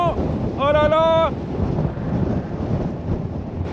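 Strong wind roars and buffets the microphone while an electric scooter is ridden across the USA toward Monterey, a steady, loud broadband rush with a brief tonal cry near the start.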